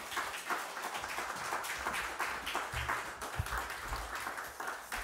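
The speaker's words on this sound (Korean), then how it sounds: "오늘 나오실 때에 큰 박수로 맞이했으면 좋겠습니다." Sustained applause from a church congregation at a Friday prayer service, steady crowd clapping filling the room for several seconds without speech.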